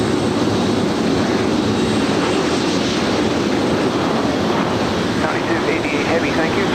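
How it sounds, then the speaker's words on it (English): A heavy airliner takes off at night from LAX runway 25 right, with a loud, sustained jet roar that holds steady throughout and a faint voice mixed in beneath it. "runway 25 right, ready for takeoff."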